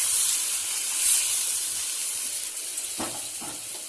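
Golden fried bori drop into a Bengali rohu fish curry, making a steady steamy hiss, with a few soft stirring clatters near the end.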